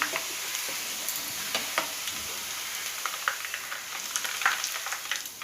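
Mixture snack fries in oil in a pan with a constant crackling sizzle, and occasional scraping and stirring sounds come through as it is turned over.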